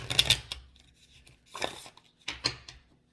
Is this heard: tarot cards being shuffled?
yes